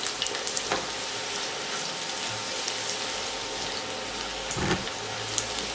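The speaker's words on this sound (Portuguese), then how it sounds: "Vamos deixar fritar um pouquinho. Ó, a cebola com o alho" Chopped onion and garlic frying gently in a pan for a chicken sweet-and-sour dish, a soft steady sizzle with faint crackles and a couple of brief clanks of a utensil, heard alone and fairly quiet.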